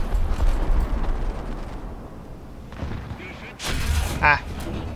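Artillery shells crash down in a snowy tank battle in War Thunder, a heavy rumbling burst followed by a sharp loud impact with lingering crackle, all close and without talk.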